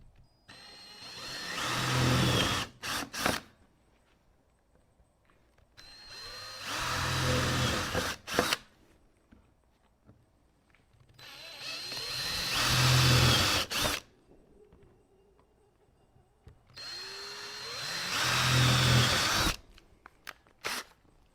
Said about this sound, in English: We're going to drill it out with a 1/8 inch drill bit first.